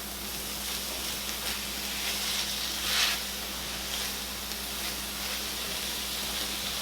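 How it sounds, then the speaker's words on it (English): Chili powder toasting in a hot pan gives a steady, soft sizzle and hiss that holds even throughout with no voices. "I'm just going to add this in and give that a little mix just to help toast up that chili powder"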